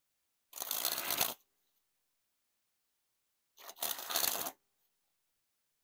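Bicycle Vintage Christmas playing cards sprung from hand to hand, making two separate rapid riffling bursts about a second each, close and crisp, with silence between them.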